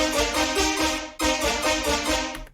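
Bright, brassy synthesized horn chords sound in two sustained stabs, the second starting abruptly after a brief cut, rich and buzzy.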